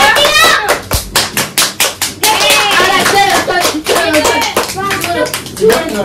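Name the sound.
child clapping hands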